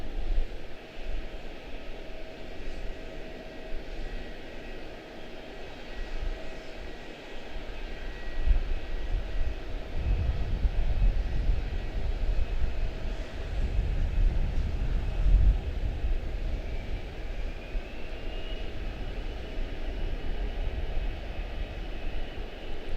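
An Airbus A321 airliner bound for Orlando rumbles at Charlotte-Douglas International Airport, a moderate low engine roar that swells in the middle and then eases, with no talking.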